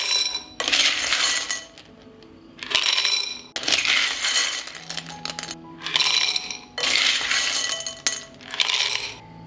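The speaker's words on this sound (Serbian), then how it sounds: "I zatim ću napuniti tegle sa testeninom." Dry pasta pours into glass jars in several bursts, each a dense rattling clatter of pieces hitting glass and each other, separated by short quiet gaps.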